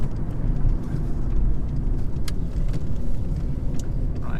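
A 2008 VW Polo with a 1.2-litre engine driving along a narrow B road, its steady engine and road rumble heard from inside the cabin with no talk.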